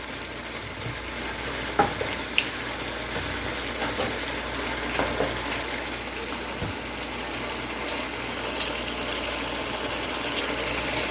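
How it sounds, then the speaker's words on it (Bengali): Masala being fried and stirred in a pan gives a steady soft sizzle with occasional scraping and light clinks throughout, moderately close, with no speech. "ভালো করে মশলাটা আমি কষাচ্ছি"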